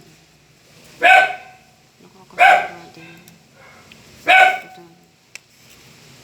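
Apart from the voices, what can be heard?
dog barking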